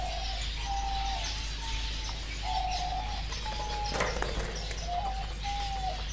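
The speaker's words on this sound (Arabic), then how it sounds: "هذا حمام مستجر راح نطلق بالمحمية ان شاء الله." Mushajjar pigeons cooing in a reserve ahead of release, a series of soft, repeated coos with short pauses between them, near and clear over a steady low background hum, with a brief flutter of wings midway.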